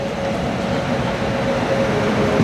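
A train hauled by a WAG9 electric locomotive of the Kanpur shed rumbles steadily past at close range, a loud continuous roar with a faint tonal whine; a voice speaks briefly over it.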